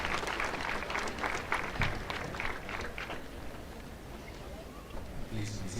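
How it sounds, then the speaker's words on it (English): Crowd applause at a university graduation ceremony as the archbishop is welcomed, a steady wash of many hands clapping that thins toward the end, with voices underneath. "With a round of applause, please."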